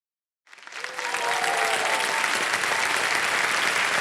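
A studio audience at a KBC Season 15 quiz show bursts into applause that swells within a second and holds as a dense, steady wash of clapping, with no talk over it.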